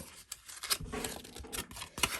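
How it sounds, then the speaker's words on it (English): Paper being crumpled by hand for a handmade card, a close series of crackling, rustling crunches that come in uneven bursts, with no one talking. "we're going to crumple that up. Just crumple it all up"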